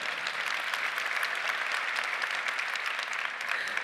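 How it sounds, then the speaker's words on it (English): Full, steady applause from a large keynote audience at Oculus Connect 6, dense even clapping filling a big hall for several seconds, with no speech over it. "Yeah, you can clap for that."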